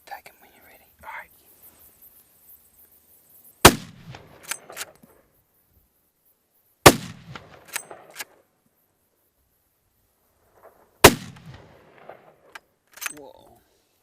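Rifle gunshots during a deer hunt in New Zealand: three loud, sharp cracks several seconds apart in otherwise quiet open air, each followed by a brief echo, with hushed whispering in between.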